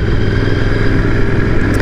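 A Royal Enfield Continental GT 650 motorcycle being ridden on a twisty road, its engine a loud, steady, close rumble throughout the short stretch.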